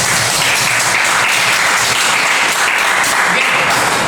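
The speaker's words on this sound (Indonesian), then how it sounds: "Oke, tepuk tangannya mantap." Classroom applause from a group of junior high school students during an informatics lesson, a dense, steady clapping that fills the room and holds at full loudness throughout, with a voice briefly heard over it.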